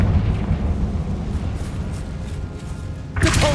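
A fiery Confringo spell blast in Hogwarts Legacy: a sustained, loud rumbling roar of flame and debris, ending with a sharp bright burst of impact near the end.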